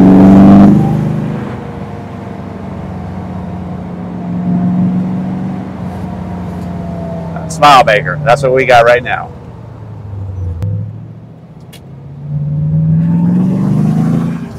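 A 1975 Chevrolet Corvette L82 V8 engine revs and accelerates with a deep, rising rumble; someone speaks briefly over it partway through.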